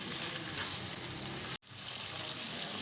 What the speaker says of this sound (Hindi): इसको भी एक मिनट तक अच्छे से फ्राई करेंगे गोश्त के साथ